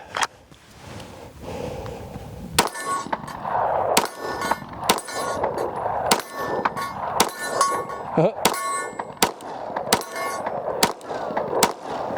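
A CZ 75 SP-01 Tactical pistol fires about a dozen sharp shots at roughly one-second intervals at a steel target 12 yards away, each report ringing with a metallic clang, with some faint talk between shots.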